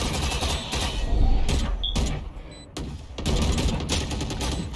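Gunfire in the tactical shooter game Valorant, a dense run of rapid automatic shots and bursts that are loud and close, broken by short pauses.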